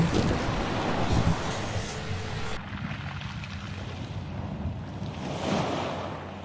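Surf rolls and washes steadily on a beach at Luna, La Union, with wind buffeting the microphone; a quieter stretch midway before the waves swell again near the end.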